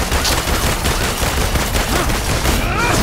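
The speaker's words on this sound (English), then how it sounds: "Pistol round. Pistol round." Rapid, loud pistol gunfire during combat in the Marvel's Avengers video game, a dense continuous barrage of shots mixed with other battle noise.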